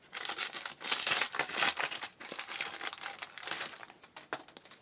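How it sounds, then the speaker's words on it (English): Trading cards from a 2011 Contenders football box handled on a table, a steady papery crinkle and rustle in quick repeated bursts, close and fairly loud with no talking. "Cards sound funny."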